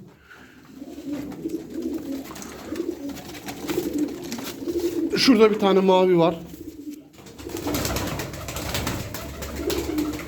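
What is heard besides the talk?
pigeons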